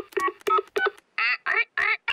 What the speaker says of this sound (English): I'll ring Granny Pig.